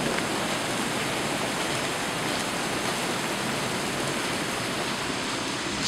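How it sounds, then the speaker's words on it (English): Dense, steady rain from a severe thunderstorm in Fort Smith pours down with a continuous loud hiss and no breaks, with no voices. "It's insane how hard it's raining right now."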